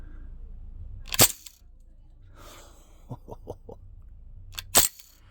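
A Crosman R1 4.5mm CO2 BB gun fires twice, two sharp loud cracks several seconds apart, with a few quick mechanical clicks from the bolt in between.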